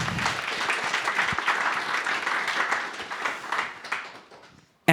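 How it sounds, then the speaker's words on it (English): An audience applauds panelists at a discussion event, a dense burst of many hands clapping that holds steady and then fades out near the end. "Please, once again, round of applause for our wonderful panelists here."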